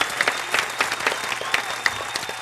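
Studio audience clapping for the MCs of a hip-hop cypher on a radio show, steady moderate applause with sharp individual claps throughout and no voices.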